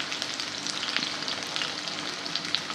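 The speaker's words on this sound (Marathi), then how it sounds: "हा बटाटा आपण चांगला शिजत मऊ होईपर्यंत चांगला परतून देणार आहोत" Diced potato sautéing in hot oil in a pan until soft for spicy sabudana khichdi, a dense continuous sizzle with faint occasional stirring, close and steady, no one speaking.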